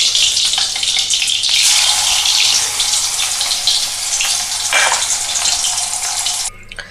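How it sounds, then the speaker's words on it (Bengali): Katla fish pieces fry in sesame oil with a steady, dense sizzle that stays close and fairly loud for several seconds, then drops back slightly near the end. "বাকি যে মাছগুলো আছে আমি একইভাবে ভেজে নেব।"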